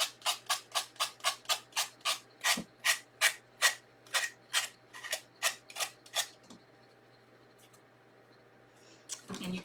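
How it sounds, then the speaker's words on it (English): An X-Acto knife scraping excess paper off a craft piece, a run of about twenty quick rhythmic rasping strokes up close, then a near-silent pause before a brief final scrape. "But like I said, you can take your X-Acto knife and get it off."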